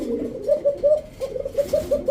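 Pigeons coo at close range, likely racer, chila, Danish or high-flyer giribaz birds. The soft throaty calls come in a steady run of repeated phrases with no pause.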